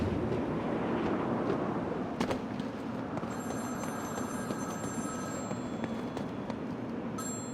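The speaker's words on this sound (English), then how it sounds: "There's a phone ringing somewhere." A telephone rings somewhere in Batman: Arkham City, its bell faint and distant through a low ambient rumble, repeating intermittently.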